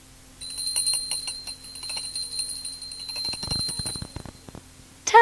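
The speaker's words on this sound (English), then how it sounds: "When you hear Noddy's bell jingling like this," Noddy's small bell jingles in a bright, repeated ringing that runs steadily through the clip, with a brief louder clatter near the end; no one speaks.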